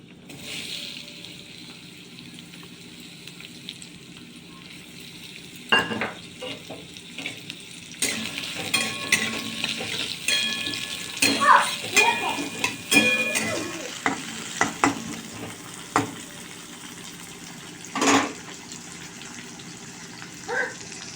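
Whole cumin and chopped onion frying in white oil in a kadai, a steady sizzle that rises as stirring starts, with repeated close scraping of a spoon against the pan and brief louder bursts.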